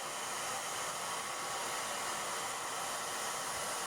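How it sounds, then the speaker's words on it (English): A steady, loud hair dryer heating craft material blows continuously from start to finish with no pauses, a broad rushing hiss filling the space close to the mic. "the blow dryer did not work as anticipated"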